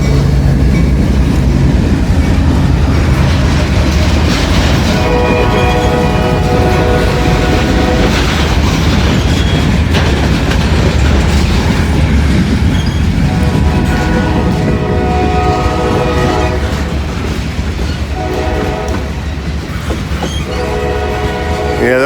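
A freight train led by three SD locomotives and a GEVO rolls past close by, its loud, steady rumble and wheel clatter carrying through long horn blasts.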